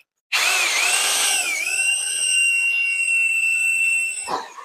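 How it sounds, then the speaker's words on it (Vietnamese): A three-function 1300W power drill spins up sharply and whines at a high, steady pitch while boring into a door for about four seconds, then winds down abruptly. "Thì thôi bảo khoan vào cái cửa luôn này, cho mình xem này"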